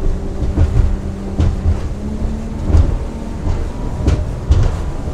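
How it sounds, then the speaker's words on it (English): Quintrex 690 Trident aluminium boat running at speed, around 5,000 RPM and 70 km/h with trim set, a steady outboard engine drone with wind and hull thumps from the water. "5 bars of trim, 70 kilometers an hour."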